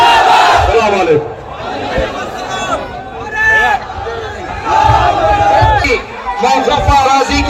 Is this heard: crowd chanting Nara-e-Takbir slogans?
yes